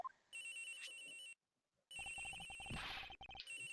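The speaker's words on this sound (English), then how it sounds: "This has got to be the victim's cell phone." A cell phone rings from inside a locker in the video game Ace Attorney Investigations: a bright electronic ringtone in two bursts separated by a short pause, clear and alone.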